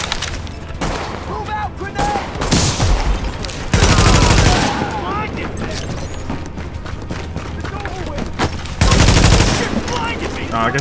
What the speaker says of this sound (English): okay, it's a machine gunner